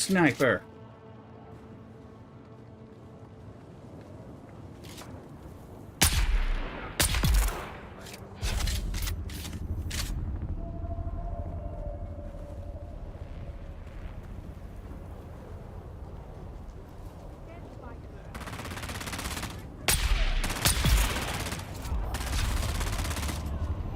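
Sniper and rifle fire in the video game Dune, with several sharp loud shots scattered over a continuous low ambient rumble, a later cluster of heavier bursts, and a player talking at times.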